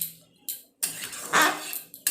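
A spoon scrapes and clinks against a pan while potatoes and pointed gourd are stirred into masala, in short intermittent bursts separated by brief quiet gaps.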